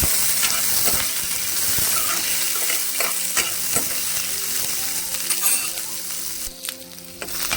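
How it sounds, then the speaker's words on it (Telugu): Steady sizzling of onions lightly frying in a pan for an egg tomato gravy, with occasional stirring scrapes and clinks, close and continuous throughout. "ఆనియన్ కూడా కొంచెం లైట్గా వేయించుకున్నామండి"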